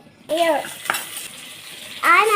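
Tomatoes and chillies go into a frying pan with oil and get stirred, two bursts of sharp scraping sizzle separated by a quieter gap with a single clank, close up, nobody speaking.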